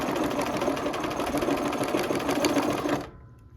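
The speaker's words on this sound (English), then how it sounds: "We're gonna sew that with a 1/4 inch seam allowance." Sewing machine stitching a quilt block with a 1/4 inch seam allowance, a steady fast close whir running continuously for about three seconds, then stopping abruptly.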